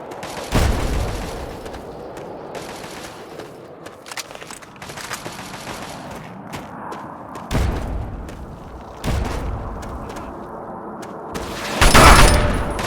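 Gunfire from the Fallout 3 Operation Anchorage video game, with sporadic loud rifle shots and bursts of machine gun fire, heavy booming impacts spaced through the clip, and a rattling fusillade at the end.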